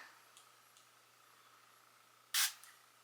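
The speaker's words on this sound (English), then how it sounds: "So one little spray, put it everywhere on my face" A single short, bright hiss of tanning water spritzed from a spray bottle, close and crisp, rising sharply from a quiet room and fading within a fraction of a second.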